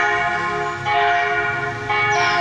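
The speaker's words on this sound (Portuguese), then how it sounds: "Os sinos que acabaram de tocar." Church bells of the São Lourenço parish ring out across a town square, with sustained resonant tolls swelling in a couple of strikes, heard at a moderate distance with no talking.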